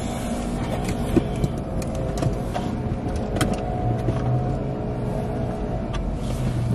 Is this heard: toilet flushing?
no